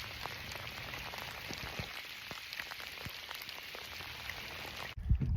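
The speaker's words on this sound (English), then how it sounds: "It's raining." Steady rain patters on the surface and a kayak during a bass fishing tournament on Saginaw Bay, a soft even hiss with scattered drop taps, ending in a few louder close knocks.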